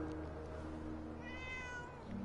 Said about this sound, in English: What just meowed at me? Oh, there's a fucking cat right here.